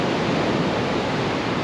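Rough sea waves crash and wash on a shore during a stormy surfcasting session, a loud, dense, continuous roar with no pauses.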